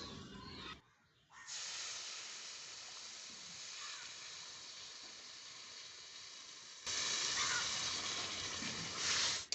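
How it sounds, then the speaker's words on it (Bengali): Water poured into a hot pan of fried shrimp and chilli powder bursts into a loud, sustained hiss of steam, briefly dipping and then surging louder again near the end. "এখন দিয়ে দিব জল"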